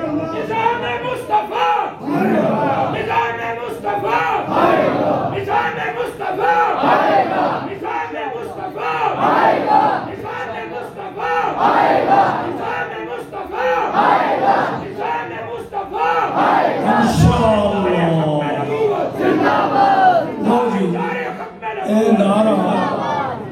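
A large crowd at a religious political rally chants slogans in unison, loud and continuous with rising and falling waves of voices and a brief sharp burst near the middle.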